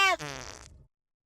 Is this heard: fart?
yes